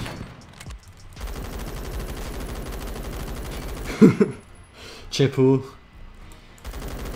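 MG36 machine gun firing in Phantom Forces, a long rapid automatic burst filling most of the clip, with a voice speaking briefly over it during pauses.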